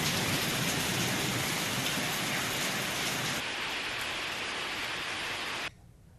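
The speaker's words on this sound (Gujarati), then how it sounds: "પંચમહાલ જિલ્લાના અનેક વિસ્તારોમાં કમોસમી વરસાદ વરસી રહ્યો છે." Heavy unseasonal rain pours down in a dense, steady hiss of drops at constant loudness, then cuts off abruptly near the end.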